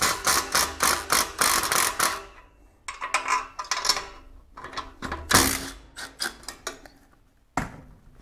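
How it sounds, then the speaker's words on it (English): Rapid ratchet tool clicks while band clamps come off a loud, oil-leaking engine in a garage, loud close bursts of ratcheting separated by short pauses and a final sharp burst. "We're gonna go ahead and pop these band clamps off real fast."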